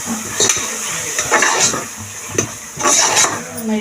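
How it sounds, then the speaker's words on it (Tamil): A spoon stirs a vegetable pulao mixture of rice, carrots and beans in a cooking pot, giving soft scraping and light clinks over a gentle sizzle, irregular and close. "நல்லா அப்படி கெட்டியாகாத மாதிரி மிக்ஸ் பண்ணி எடுத்துக்கணும்"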